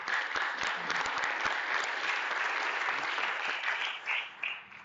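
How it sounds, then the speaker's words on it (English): Applause fills a school board meeting room, steady clapping from a modest audience that continues for several seconds and tapers off unevenly at the end. "I want to give him a big round of applause for everything he's done."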